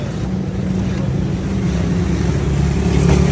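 A Honda CG 150 motorcycle, a nearly new bike with about 200 km on it, idles with a steady, close, low rumbling drone that holds even throughout, with no talking.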